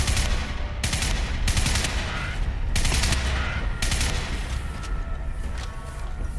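Heavy gunfire in the video game Crysis Remastered, with repeated loud shots and booming blasts at irregular intervals over a dense, continuous battle din.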